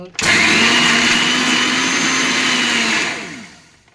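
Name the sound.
blender blending watermelon and sugar for yogurt sherbet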